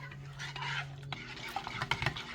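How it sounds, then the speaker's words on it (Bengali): Dishwashing liquid stirred into a homemade plant spray mixture in a container, giving a soft, close swishing and scraping with a few light clinks, steady throughout with no talk. "এটা দিয়েও খুব ভালো করে আমাদের নেড়ে মিশিয়ে নিতে হবে"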